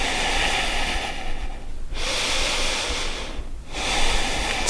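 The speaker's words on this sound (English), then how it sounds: "Expanding with the inhale. Contracting muscular energy on the exhale." Steady yoga breathing, close and audible, forms long hissing inhales and exhales in a slow rhythm, with two brief quiet dips between breaths.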